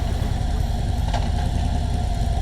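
Vehicles pulling up at a mountain rest area in Arizona give a steady, loud engine rumble at idle that carries evenly throughout, with a brief faint tick partway through and no voices.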